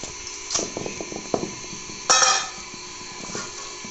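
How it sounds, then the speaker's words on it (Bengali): Beef pieces for a spiced curry dropped into a kitchen wok, heard as scattered close clatters and wet thuds, with one louder clanging burst midway before it settles. "এখন আমি যে কড়াইটাতে রান্না করব, আমি সেই কড়াইটাতেই মাংসটা আমি ঢেলে দেব।"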